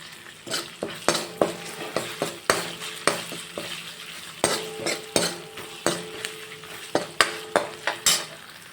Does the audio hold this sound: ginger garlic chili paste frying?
yes